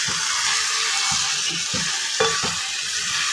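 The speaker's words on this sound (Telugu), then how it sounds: "కారం కూడా వేసి మగ్గి పెట్టేద్దాం కాసేపు." Curry in a pan, just dosed with chili powder, gives off a steady, close, loud sizzle with soft stirring scrapes mixed in and no voices.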